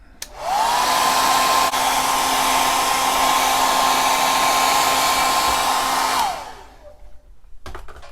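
A heat gun setting paint on a custom squarebill crankbait, a loud steady whirring blower that switches on, holds a constant tone for several seconds, then winds down, followed by faint handling noises.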